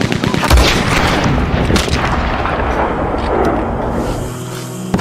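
A gunshot sets off dynamite crates in the Red Dead Redemption 2 video game, producing a loud, deep, booming blast that rumbles on heavily for several seconds.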